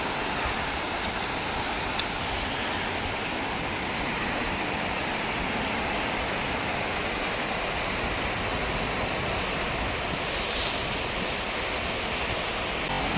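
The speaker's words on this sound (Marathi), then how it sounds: "शांत समुद्र हा" Calm sea waves wash onto a rocky Konkan beach at Murud, a soft continuous broadband surf roar that stays even and fairly faint throughout.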